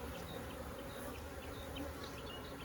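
A honey bee colony, aggressive with a new queen, buzzes steadily around an opened hive, a dense continuous drone with individual bees flitting close by, no voices.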